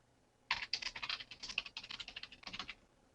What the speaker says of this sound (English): let me type that in with the new address